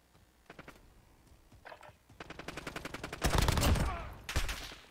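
Video game gunfire sounds as rapid bursts of shots, starting as scattered pops and building into a dense, louder automatic volley near the end, with faint voices beneath.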